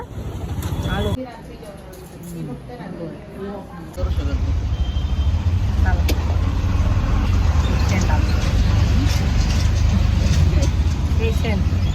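An auto rickshaw ride: a steady, loud engine drone and road rumble run without a break from about four seconds on. People talk over quieter background noise before the engine noise begins.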